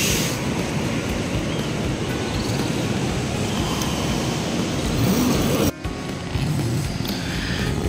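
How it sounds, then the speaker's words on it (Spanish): A steady, rushing wash of a flowing stream at a campsite fills the scene continuously, dense and close, with a brief dip near the end. "Se escucha el ruido del arroyo."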